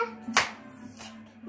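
Small group of children clapping along to a Turkish children's clap-along song at home, a couple of sharp claps standing out over a faint sustained tone, with no singing heard during the claps.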